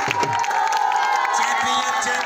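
A crowd at a village cricket league final claps and cheers, with shouts and whoops layered over steady clapping, close and loud throughout with some voices mixed in.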